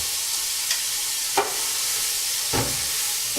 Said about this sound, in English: What is it about cooking leeks and onions?